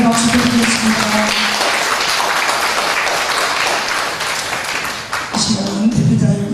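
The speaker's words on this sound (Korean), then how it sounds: "부모님께 다시 한번 감사의 박수 드리겠습니다." Loud applause from a lecture-hall audience honoring parents, steady clapping that thins briefly before swelling again, with a voice heard at the start and near the end.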